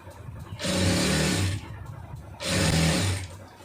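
A sewing machine stitches the joints of a churidar pant in two clear bursts, each about a second long, with a short quiet pause between them, heard close and alone.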